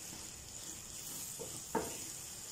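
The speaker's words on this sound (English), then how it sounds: "I'm simply going to stir that" A mixture with a little sugar is stirred in a pan over heat, a faint, low sizzle with a couple of soft scrapes of a spoon near the end.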